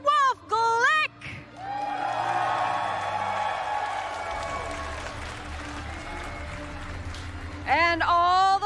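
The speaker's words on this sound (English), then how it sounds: "Please cheer as we bring them to the stage" A crowd at the 2019 Pokémon North American International Championships cheers and applauds for a finalist being brought to the stage, a sustained swell of clapping and whoops lasting several seconds between bursts of an announcer's amplified voice.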